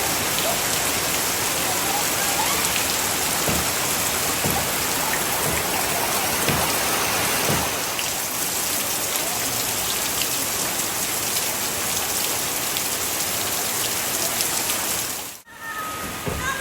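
Steady heavy rain drums on surfaces in a rural village setting, a dense continuous hiss with occasional close drips, holding level throughout before a brief dip near the end.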